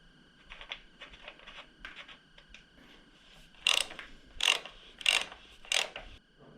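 A plastic rear brake reservoir cover is refitted on a KTM 250 SX dirt bike. Light clicks and taps come first, then four louder, sharp, evenly spaced ratcheting clicks, close and alone.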